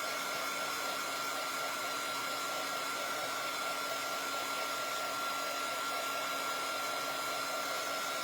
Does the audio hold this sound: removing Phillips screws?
no